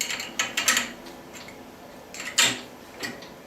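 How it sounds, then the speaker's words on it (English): Bolts are tightened on an off-center lathe chuck with a wrench, giving a handful of close metallic clicks and ratcheting scrapes in short, uneven bursts. "just tighten down our 3 bolts"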